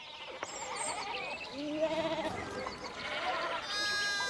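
Sheep in the video game Pentiment bleat repeatedly, with overlapping wavering calls at moderate volume and faint background voices.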